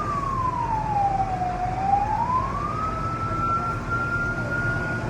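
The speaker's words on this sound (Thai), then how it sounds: "รถน้ำรถดับเพลิงตอนนี้เริ่มมาแล้วครับ" A fire truck siren wails as engines arrive at a blazing market in Nong Muang, Lopburi, one long tone sweeping down and back up before holding steady over a constant rumble of traffic and crowd noise.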